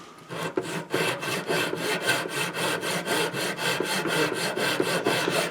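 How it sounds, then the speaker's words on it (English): A hacksaw cuts through dulcimer wood in steady back-and-forth strokes, about four rasping strokes per second, close and loud, with no voices. "I like these hacksaws on this wood because it takes small bites."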